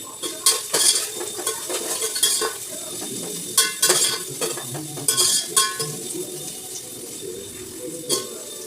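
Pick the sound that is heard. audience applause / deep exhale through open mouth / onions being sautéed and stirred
onions being sautéed and stirred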